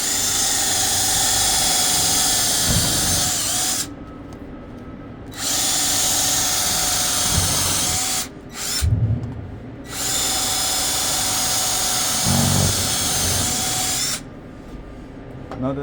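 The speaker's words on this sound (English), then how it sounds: "We've got a lot of holes to drill." A power drill bores holes through a conveyor belt for lacing, running in long whining bursts of several seconds each with short pauses between them, close and loud.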